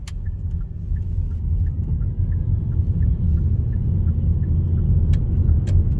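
Cars pull away together from traffic lights at a signalised roundabout in Horsforth, a loud steady engine rumble building slightly as the traffic moves off, with no voices.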